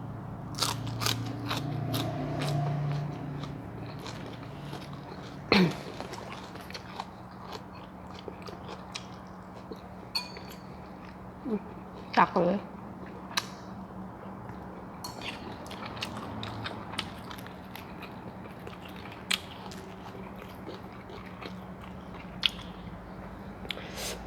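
Someone eats mushroom dipped in chili paste close by, with sparse, crisp crunching bites and soft squishy chewing in a quiet room. Nobody speaks.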